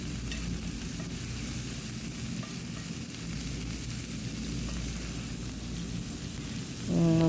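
Half a kilo of corned beef with plenty of garlic stirred and frying in a pan, a steady close sizzle with scraping stir strokes throughout, and a brief louder clatter at the end.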